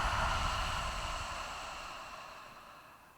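A deep, slow exhale during yoga breathing, a soft breathy rush close to the microphone that fades steadily away over about three seconds.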